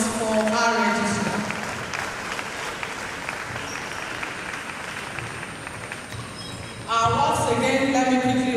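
A hall audience at a university lecture on higher education administration gives long, steady applause, a dense wash of many hands clapping at moderate distance, with a voice speaking at the beginning and returning near the end.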